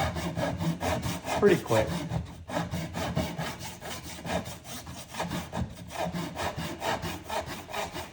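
A hand saw cuts a fret slot in wood with close, quick back-and-forth rasping strokes in a steady rhythm, a brief pause mid-way, and someone speaks a few words over it.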